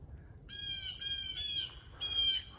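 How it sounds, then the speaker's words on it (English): Birds squawk back and forth in the morning on a forest trail, harsh crow-like calls in two bursts, fairly clear above a faint low background rumble. "Birds are arguing this morning."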